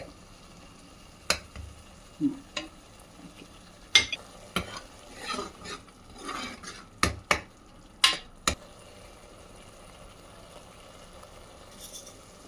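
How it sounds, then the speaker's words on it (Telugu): Mutton curry masala of onions and tomatoes frying in oil in a pan, a soft continuous sizzle broken by scattered scraping stirs from a spoon, close and fairly quiet with no talk. "ఇది వేగే వేగే వేగేదాకా వేయించాలి వేగటం అంటే నూనె బయటకు వదులుద్ది అప్పటిదాకా ఉంచాలి"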